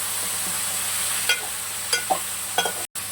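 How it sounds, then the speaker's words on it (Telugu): Tomatoes and other vegetables frying in a pan for an all-vegetable chutney produce a steady low sizzle, broken by a few quick stirring scrapes and clicks and a brief dropout near the end. "మనకి ఇవన్నీ గోల్డ్ కలర్ వచ్చేంత వరకు మనం ఫ్రై చేసుకోవాలి"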